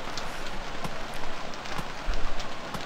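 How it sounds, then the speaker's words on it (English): Steady rainfall on a tropical island in the survival game Stranded Deep, a dense continuous hiss with a few louder drop patters, heard alone at moderate level. "The rain is loud."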